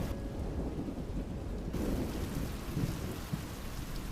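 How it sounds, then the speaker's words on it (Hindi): Heavy rain pours steadily with rumbling thunder rolling underneath, a loud, dense wash that swells midway through and carries no voices. "बारिश बहुत तेज हो रही है।"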